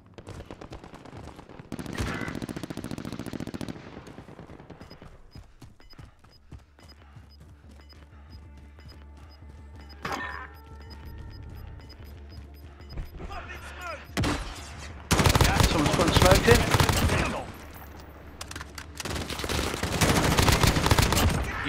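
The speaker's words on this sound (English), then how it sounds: "Teammate shooting." Teammate gunfire in Call of Duty Warzone, heard as several bursts of automatic shots, with loud, dense volleys near the end and voices talking through the match.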